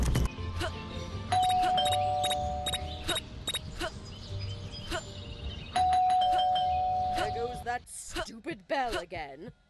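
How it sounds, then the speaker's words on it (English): Doorbell ringing in the video game Scary Teacher 3D, repeated chime tones that start and stop several times over game background sounds, loud and close, with a burst of squeaky cartoon-like chirps near the end. "Bell again."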